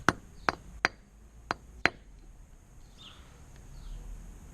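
Five sharp hammer strikes drive a nail through a lead fishing sinker, loud metallic whacks spaced about half a second apart, then a quieter stretch with faint background noise.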